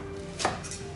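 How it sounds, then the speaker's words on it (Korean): A knife cuts through napa cabbage on a board while preparing tofu hot pot, one crisp chop landing mid-clip with a softer follow-up cut, close and otherwise quiet. "자, 그 다음 알배추 썰어요."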